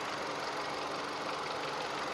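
The petrol engine of a 2020 Hyundai Venue idles smoothly with a quiet, even hum and no audible knocking, heard close up with no talking.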